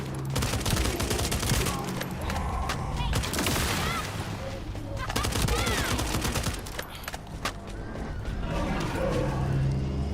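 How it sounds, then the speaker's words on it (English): Dense, continuous rapid gunfire from the video game The First Descendant crackles throughout, loud and busy with overlapping bursts and game effects layered on top. "Who the fuck is shooting?"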